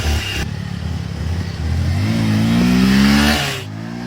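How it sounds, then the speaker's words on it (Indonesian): A motorcycle engine idles roughly, then revs up, its pitch rising and holding strong before easing back down; no talking. "Lah ieu motor Mang Jack alah."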